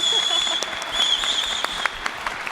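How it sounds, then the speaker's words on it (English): A conference audience at ATS London 2022 applauds a panelist after a session on connected TV growth, giving a steady, dense wash of clapping that holds at an even level throughout. "so big round of applause for Amy first"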